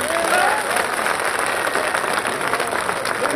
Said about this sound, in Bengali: হাত উঠান, এবার একটা তালি দিই